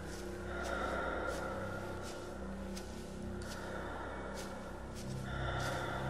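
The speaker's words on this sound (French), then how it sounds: "C'est quoi cette respiration là C'est flippant quand même." Eerie heavy breathing in the horror video game White Night, slow rasping breaths repeating in a steady rhythm over a low droning background, fairly faint, with no talk.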